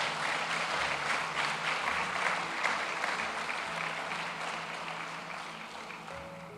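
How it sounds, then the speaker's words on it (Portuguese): A church congregation breaks into sustained applause honoring God's mercy, dense steady clapping that holds evenly and slowly fades toward the end, with no voices over it. "Então dê uma salva de palmas pela misericórdia de Deus."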